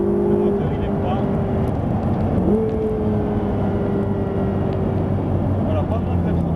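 A Ferrari 488 on the Anneau du Rhin race track roars loudly from inside the car, its engine tone holding steady and then shifting up in pitch as it accelerates.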